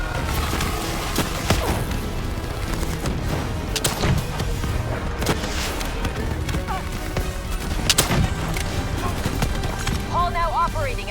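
Heavy gunfire and booming blasts in a Call of Duty: Black Ops 3 campaign boss fight, continuous and dense, mixed with explosions, whooshes and game voices talking over the battle.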